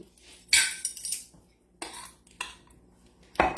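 A spoon mixing a few tablespoons of an ingredient in a bowl while preparing gluten-free Mediterranean shrimp and pasta. A few short bursts of clinking and scraping are separated by brief pauses.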